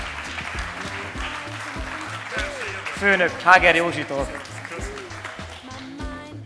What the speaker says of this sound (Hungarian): egy óriási tapssal köszöntsük Barna Ferencet